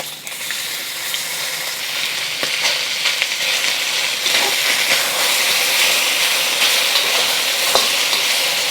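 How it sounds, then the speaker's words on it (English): Beef sizzling and frying in hot oil in a wok, a loud steady bright hiss with occasional stirring clatters, close up and continuous, with no talk. "Adding another tablespoon of oil and getting the rest of the beef in there."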